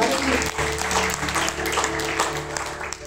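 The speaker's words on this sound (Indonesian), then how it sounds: "Tepuk tangan bagi Allah kita." Church congregation applauding during a Pentecost sermon, a dense steady clatter of many hands filling the room for about three seconds with a faint voice underneath.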